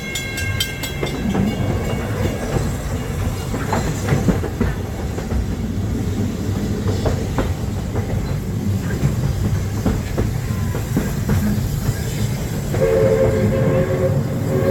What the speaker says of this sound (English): I'll stay safe and sound right here aboard my train